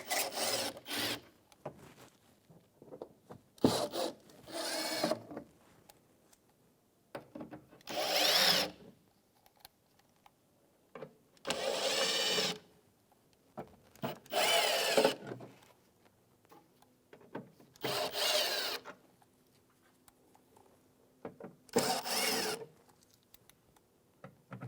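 Power driver with a Torx T15 bit backing out screws during front shock and spring replacement on a 2015-2020 Cadillac Escalade; a string of short, loud whirring bursts separated by pauses and faint handling clatter.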